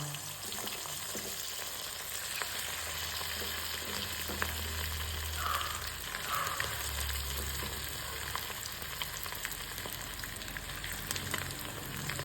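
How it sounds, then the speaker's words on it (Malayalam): Chicken pieces frying in hot oil in a pan give a steady, fairly loud sizzle throughout, with occasional stirring clatter and no talking. "ചട്ടിയിൽ ഓയിൽ ഒഴിച്ച് കൊടുത്തിട്ടുണ്ടായിരുന്നു ചൂടായിട്ടുണ്ട് നമുക്ക് ചിക്കൻ ഇട്ട് കൊടുക്കാം"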